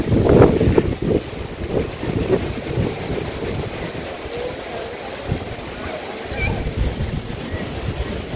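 Gusty wind buffets the microphone in low rumbling bursts, loud and close, with some talking mixed in.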